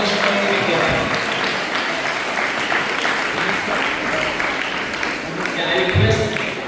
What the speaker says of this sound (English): Please give a huge round of applause for our runner-up, SBR Maheshwari Vidyarthi.